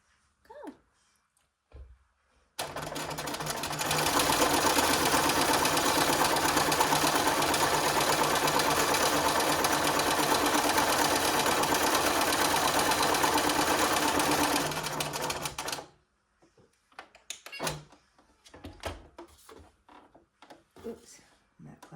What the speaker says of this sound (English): I'm going to go to the sewing machine and sew all the way around the square